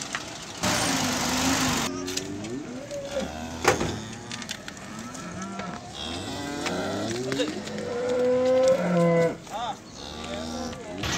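A calf at a busy livestock market in Beylagan lets out several drawn-out moos, some rising and wavering, with crowd noise and a passing vehicle in the background.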